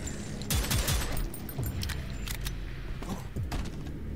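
Guns that share the same ammo firing in the shooter video game Prodeus, rapid bursts of close, loud shots with mechanical clacks, repeating in clusters across the few seconds.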